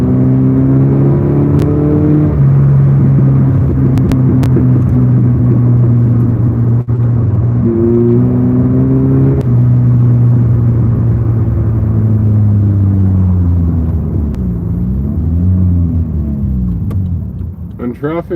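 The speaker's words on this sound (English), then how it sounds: "I'm excited to drive the NSX." A Honda NSX engine in the Assetto Corsa EVO racing game, driven on a road in dense morning traffic, droning steadily with rising and falling revs through gear changes while someone talks over it.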